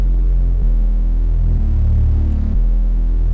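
Heavily distorted 808 bass for a drill beat, a loud sustained low throb that shifts pitch in steps across a few held notes, with no voices.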